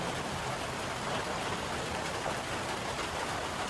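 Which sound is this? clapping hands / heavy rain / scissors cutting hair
heavy rain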